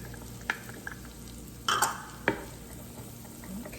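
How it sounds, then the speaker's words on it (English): Celery and other vegetables sautéing in a pan, a faint low sizzle punctuated by a few sharp clinks and a brief scraping stir of a utensil against the pan. "we're going to let these saute a little bit"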